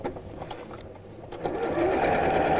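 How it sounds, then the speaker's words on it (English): A sewing machine stitches a half-inch seam on a patchwork pincushion, running steadily and close, building to a louder continuous whir in the second half. "So I'm going to sew them right sides together with a 1/2 inch seam allowance."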